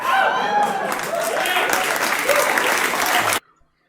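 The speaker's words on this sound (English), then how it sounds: "people are cheering for it" A crowd cheers and claps loudly in dense, sustained applause with whoops over it, then the sound cuts off abruptly to near silence at the end.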